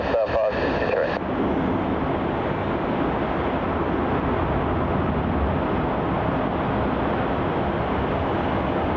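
A Jetstar airliner, flight JQ563 from Brisbane, lands on runway 34 at Melbourne Airport, a steady, loud, broad roar that holds for the whole stretch after a brief burst of radio chatter at the start.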